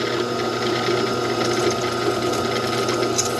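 A drill fitted with a tungsten carbide bit runs steadily and loudly, a dense continuous mechanical whir with fine ratcheting texture and no pauses.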